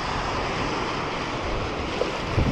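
Ocean surf rolling in on a Maldives flats fishing shore, a steady broadband wash of breaking waves mixed with gusty wind buffeting the microphone, continuous and fairly loud with no voices.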